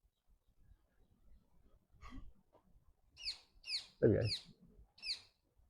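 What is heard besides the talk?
parrots calling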